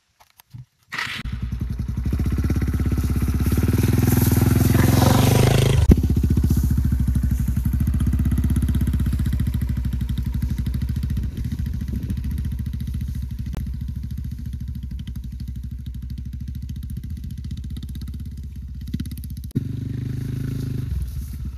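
Motorcycle ridden over uneven, off-camber terrain, its engine droning loudly and steadily close by for the whole stretch, with occasional thumps and clatter as the bike moves over the rough ground.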